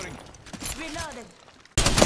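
Apex Legends gunfire arrives as a sudden, loud burst of rapid shots at the very end, after a stretch of excited talking from players.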